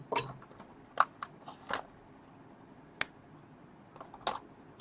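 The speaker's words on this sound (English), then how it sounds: "You cut the yarn" Scissors snipping crochet yarn after a granny square is fastened off, heard as a few sharp, close clicks and snips spaced irregularly over a quiet background, with no talking.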